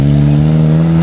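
A classic 1950s Skoda Felicia pulls away from a media-day car event, its engine giving a loud, steady, close drone.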